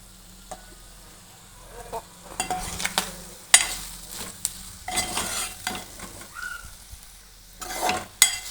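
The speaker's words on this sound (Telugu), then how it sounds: "ఒకసారి తిప్పుకోవాలి." A spoon scrapes and stirs through a sizzling pan of curry with curry leaves and coriander powder, giving irregular clinks and scrapes over a soft, steady frying hiss, close by.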